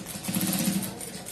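A sewing machine stitches a shirt seam in one short, even run, its rapid needle chatter close and moderately loud with no voices over it.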